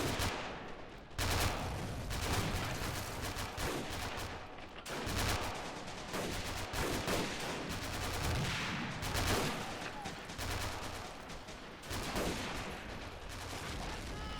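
Sustained battle din in Men of War: crackling rifle and machine-gun fire mixed with heavier mortar thumps and explosions, continuous and loud, with a voice talking faintly underneath.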